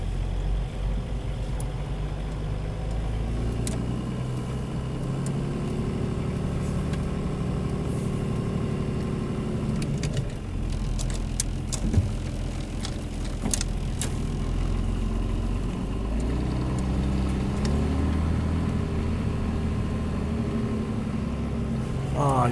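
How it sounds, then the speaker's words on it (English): A camping car's engine running steadily, a low, even mechanical hum with a faint rattle and a few scattered clicks, heard at moderate level close to the vehicle without talking. "Listen to this engine, man."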